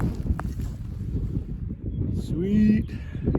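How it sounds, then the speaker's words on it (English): Strong wind roars steadily across an open hilltop ridge during a spring shed-hunting hike, a continuous low buffeting rush hitting the microphone up close, with a brief tonal whine near the end. "still windy as hell"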